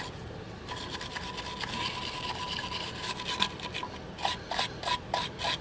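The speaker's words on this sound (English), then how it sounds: "Take a stainless steel brush to it." A stainless steel wire brush scrubs the rear brake hub of a 2008 Saturn Vue with a steady rasping rub. It breaks into quicker, choppier strokes near the end, close up, with no talking.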